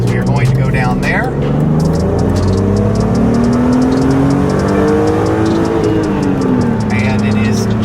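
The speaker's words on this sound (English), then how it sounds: "We are going to accelerate pretty hard, but not until we are straight" A 1998 BMW Z3M Coupe engine pulls hard under acceleration, a loud, steady mechanical drone whose pitch climbs and shifts through the run, with someone talking over it from inside the car.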